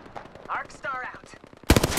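Gunfire in the video game Apex Legends: a loud, dense burst of rapid shots erupts near the end, following quieter game effects and brief speech-like sounds.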